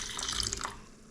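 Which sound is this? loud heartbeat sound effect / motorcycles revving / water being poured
water being poured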